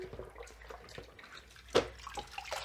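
Water sloshes and splashes softly as a microfiber cloth is dipped and moved in it, with one sharper splash midway and faint drips around it.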